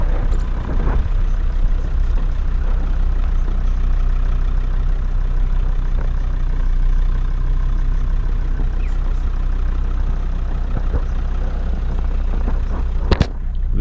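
A Jeep Grand Cherokee 2.7 CRD turbo diesel crawls in low range first gear on a 4x4 hill track, its engine idling at a steady low rumble throughout, with a sharp click near the end.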